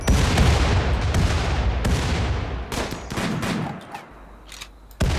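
Rapid gunfire bursts from a RimWorld colony firefight, dense overlapping shots and booms for several seconds, then thinning to scattered single reports before a final loud crack.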